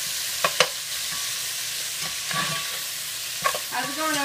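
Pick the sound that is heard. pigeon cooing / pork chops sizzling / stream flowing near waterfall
pork chops sizzling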